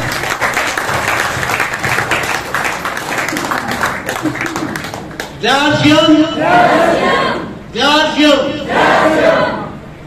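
An audience at an RCM gathering applauds with dense, sustained clapping, then breaks into loud voiced shouts and cheers that rise in bursts near the end.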